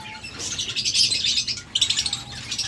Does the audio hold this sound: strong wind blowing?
no